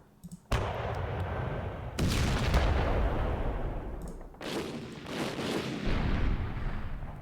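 Booming volleys from a battery of twelve 25-pounder artillery guns in a North Africa 1941 war game, heavy blasts recurring with rumbling tails across the stretch, loud and dense, with no talking.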